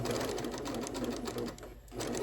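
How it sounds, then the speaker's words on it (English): A sewing machine stitching quilt fabric over a pin, a close, steady rapid whir of the needle that dips briefly near the end before resuming. "I'm just going to sew right along the other piece"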